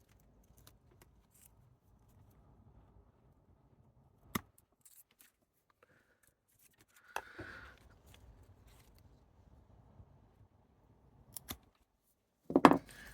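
A Ficus benjamina branch is cut with hand snips, giving a single sharp snip near the end that follows a few faint earlier clicks and handling noises in a quiet setting.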